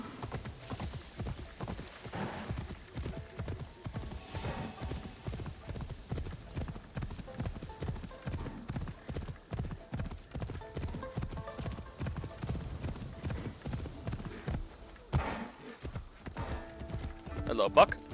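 Horse hooves thud in a brisk, steady rhythm while riding in Assassin's Creed Shadows, a continuous clip-clop with occasional whinnies, with talk over it.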